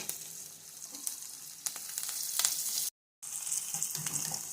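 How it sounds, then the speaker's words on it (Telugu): Soft sizzling and crackling of curry leaves frying in oil, with scattered pops and a brief silent gap before the frying resumes. "అలాగే కొంచెం కరివేపాకు కూడా వేసుకుందాం"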